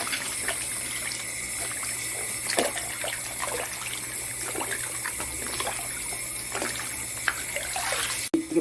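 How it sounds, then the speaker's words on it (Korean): Tap water runs steadily as dried pollack is washed under it, a continuous close splashing stream with occasional knocks and handling sounds, no talk. "물은 계속 틀어놓고 이렇게 씻으시면 돼요"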